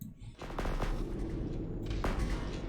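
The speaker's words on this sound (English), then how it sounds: "missiles. Everybody loves missiles." Missiles launch in the space game Astrox Imperium, a run of sharp bursts and booms over a steady low rumble, fairly loud and close with a voice talking faintly beneath.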